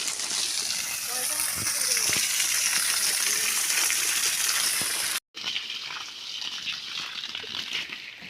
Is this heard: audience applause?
no